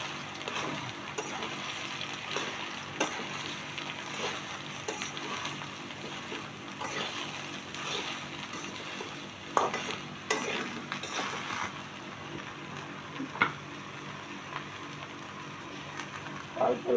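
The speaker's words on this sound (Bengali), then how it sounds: "আজকে আমি ধুন্দুল ভাজি করব।" Sponge gourd (dhundul) stir-frying in a pan, with a steady close sizzle broken by intermittent spatula scrapes and clinks against the pan for the whole stretch.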